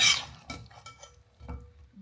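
A spoon stirring chili gravy in a cooking pot, a few soft scraping and clinking strokes spaced about half a second apart, close and quiet with no talk.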